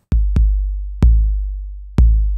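Four deep, booming kick drum hits through a Shadow Hills preamp on the iron setting land in an uneven pattern, each with a sharp thump and a long, low, decaying tail, nothing else audible.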